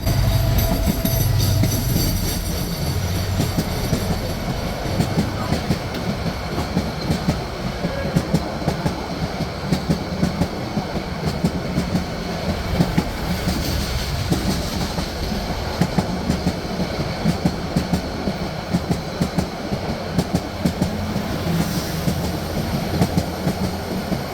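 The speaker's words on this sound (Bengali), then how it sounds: "এরই মাঝে আমাদের ট্রেনটির সাথে ক্রসিং হয় কক্সবাজার থেকে ঢাকাগামী আন্তনগর কক্সবাজার এক্সপ্রেসের সাথে" An intercity express train bound from Cox's Bazar to Dhaka passes close by, a steady loud rumble with rhythmic clickety-clack of wheels over rail joints throughout, with no voices.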